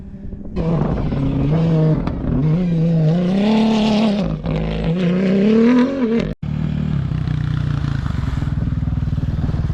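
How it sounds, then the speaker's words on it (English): A rally car on a desert course in Morocco roars close by with a rising, revving engine note that swells and then drops away as it passes, leaving steady engine noise behind. "Every 10 seconds there is a car."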